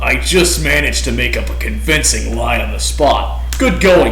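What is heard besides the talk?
No distinct noise like a dog, phone or traffic.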